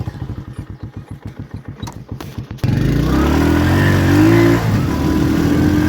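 A Honda CD 125 motorcycle ticks over at idle with a rapid, regular thump, then revs up sharply into a loud, sustained engine roar that rises and holds close by.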